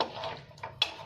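Green peas masala for pattani kuruma, with Kashmiri chilli powder, being stirred in a pan: soft scraping and a couple of sharp utensil clinks against the pan, close and quiet, with no talking.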